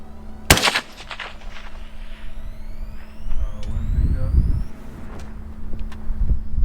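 A .223 AR rifle fires a single sharp, loud shot near the microphone on a long-range shooting setup, followed by outdoor rumble, wind and faint background noise.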